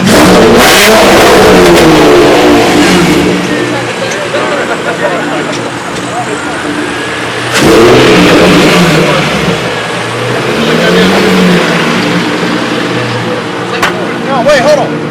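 Honda car at a night car meet, its engine revving loudly through aftermarket exhaust pipes, with repeated surging pulls and rumbling drops close by while people talk and shout over the noise.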